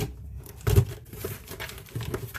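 A plastic bag crinkles and tears as it is opened while unboxing a Prairie Rivet Coach Rogue, with a louder burst of crumpling near the start, then lighter rustling and a final crinkle, close and fairly quiet.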